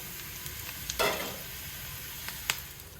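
Ginger and chillies sizzle quietly in a pan for paneer snacks, a soft steady crackle broken by a couple of stirring clatters.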